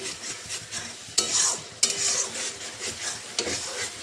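Meat with cardamom, bay leaf and whole garlic cloves sautés in a pot, a constant low sizzle broken by sharp metallic clinks and scrapes of a spoon stirring.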